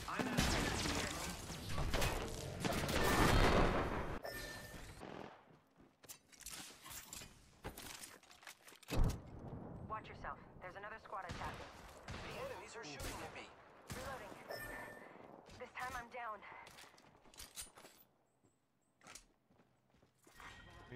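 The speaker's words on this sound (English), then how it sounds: "The enemies are shooting at me." Gunfire in the video game Apex Legends, bursts of rapid shots and clattering mechanisms during a firefight, dense at first and then in scattered volleys with gaps.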